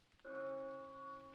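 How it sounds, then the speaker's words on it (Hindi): A single distant church bell tolls once with a long ringing decay, set against soft steady rain at night in a village; the strike is faint and resonant, with no voices. "दूर चर्च की घंटी सुनाई दे रही थी,"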